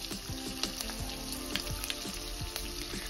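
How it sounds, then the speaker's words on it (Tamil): Cut green chilies sauté in hot oil for chicken chukka, giving a steady close sizzle and crackle with occasional pops. "எண்ணெயில் நல்லா பச்சை மிளகாய் வதங்கட்டும்."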